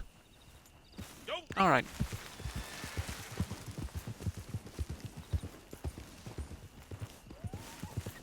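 Hungarian Half-bred horse in Red Dead Online walking at a steady clip-clop, hooves close and rhythmic, with a brief neigh near the start and someone speaking briefly.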